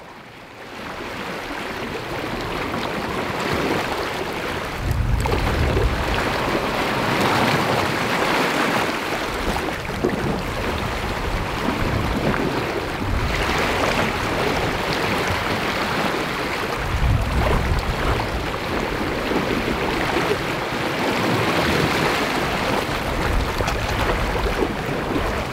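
Sailboat under way on a short sail, with steady rushing water and wind noise and periodic surges of waves against the hull, close and continuous throughout.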